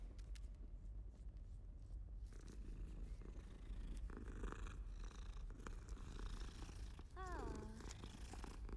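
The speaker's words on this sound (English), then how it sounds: "Pet the kitty." A cat purrs steadily while being petted in Hogwarts Legacy on PS5, a low continuous rumble running through the whole stretch under game ambience and music, with a brief chirpy tone near the end.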